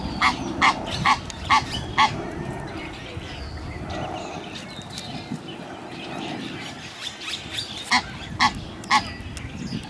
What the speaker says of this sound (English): Egyptian goose family.